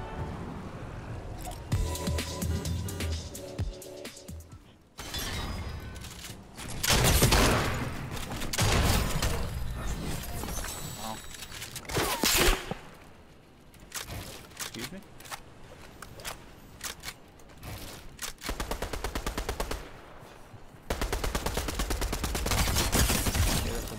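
SMG fire in a video game: loud rapid bursts that start and stop, mixed with other game noise and a voice talking at times.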